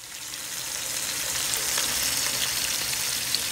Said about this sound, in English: I love to hear food sizzle.